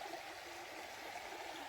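A creek on the Appalachian Trail in Virginia, at a ford where the bridge is down, rushes and splashes steadily, a continuous bright water hiss with no voices.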